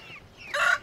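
Rooster crowing alongside clucking chickens on a farm, a short bright call rising near the end, fairly close, with light wind in the background.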